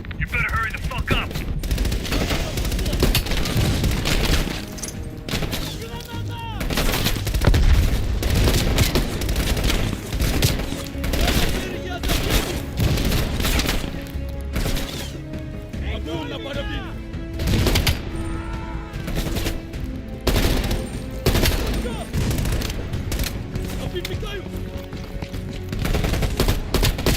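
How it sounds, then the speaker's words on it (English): Heavy machine gun fire from a ridge in Call of Duty Black Ops Cold War rattles in loud, sustained bursts, with scattered booms and battlefield chatter running beneath it throughout. "Heavy MG on the ridge"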